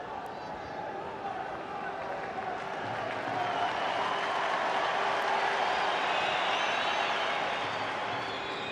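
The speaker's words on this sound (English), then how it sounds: "Big cheer for Jackie McNamara there as he had some time on the ball" A large football crowd of around 35,000 at Celtic Park roars in a sustained, swelling wash of cheering and applause that builds toward the middle and holds, with a commentator talking over it.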